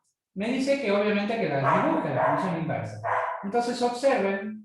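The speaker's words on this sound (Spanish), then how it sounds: "Sepan disculpar ahí si se escucha de fondo el perro" Dog barking and yipping in the background while playing at home, several short excited barks heard faintly under someone speaking continuously in Spanish.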